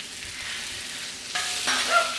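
Shrimp searing in hot oil in a pan while being pressed down, a continuous close sizzle that jumps louder and crackles for a moment partway through.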